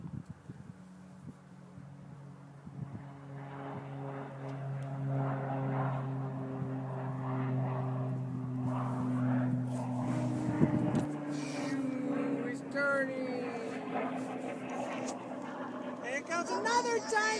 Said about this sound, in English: There goes the big white airplane on the far side